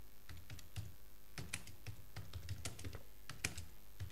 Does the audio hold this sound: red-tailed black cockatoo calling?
no